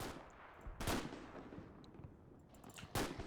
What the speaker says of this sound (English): we're still taking heavy fire from the woods here